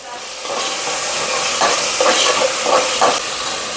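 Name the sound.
sautéing onion, ginger and garlic paste with curry leaves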